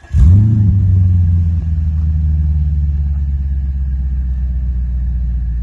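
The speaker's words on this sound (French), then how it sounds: "La sonorité du V8. C'est impressionnant." An Audi S5 V8 fires up with a sharp starter catch and a loud rev flare. It then settles into a deep, steady idle rumble, heard close up and alone.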